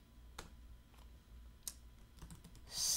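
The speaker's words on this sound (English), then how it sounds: "I'm going to type in Lido" Keystrokes on a computer keyboard are typed in a quiet room: a few sparse, faint clicks spread out over a few seconds, ending in a brief louder burst of noise.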